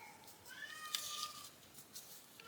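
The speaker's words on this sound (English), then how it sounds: "I apologize if y'all hear my cat in the background." A cat lets out a drawn-out meow somewhere in the room, moderately close, with no talking over it.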